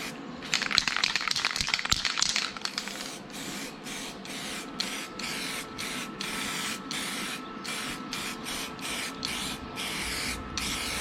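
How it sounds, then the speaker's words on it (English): U-Pol weld-through copper spray coming out of an aerosol can onto a welded repair, first a long continuous hiss, then a string of short sprays in quick bursts, close and loud with no talk. "just got to coat it with the old U-pole weld through copper spray"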